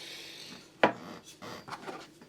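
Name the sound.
tapping guitar frets down with a fret hammer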